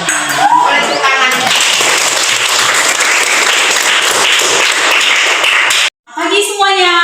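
Classroom of students clapping together, loud and close, with a fast, dense patter lasting several seconds before stopping abruptly; children's voices are heard briefly at the start and again right after it ends.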